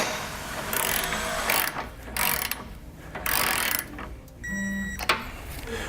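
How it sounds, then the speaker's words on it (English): A ratchet wrench tightens base plate bolts toward the bumper beam on a 2019 Jeep Cherokee, clicking in loud, close, repeated bursts of rapid pawl clatter separated by brief pauses. "we're going to tighten and torque all of our hardware to the specifications and the instructions"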